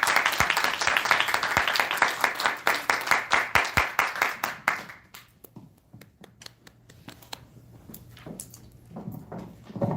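An audience at a business lecture breaks into dense, lively applause that fades out after about five seconds, leaving a few scattered claps and quiet room noise.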